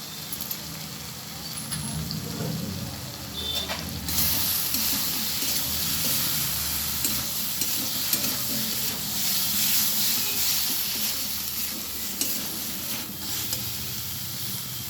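Cumin and turmeric powder sizzle steadily in a hot pan while broccoli is being cooked, a continuous frying hiss that grows louder partway through, with light stirring noises on top.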